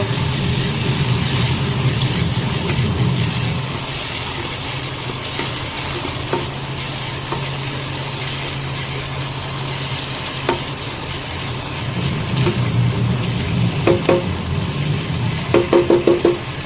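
Cardamom powder mixed into bottle gourd halwa in a pan, a steady close scraping and stirring with a low sizzle running throughout, plus a few light clinks of the spoon near the end.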